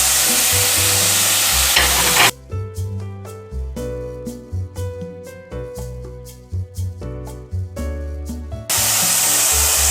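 Chicken fries in a pan with cumin, black pepper and salt for a vegetable broken-wheat dalia, a loud hissing sizzle at the start and end. Between them the sizzle drops out for a stretch of tonal, musical sound.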